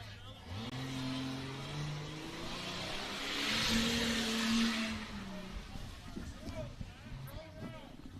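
An off-road race truck revs and pulls away from the starting line on a muddy Windrock course, its engine rising in pitch, with voices talking over the sustained roar.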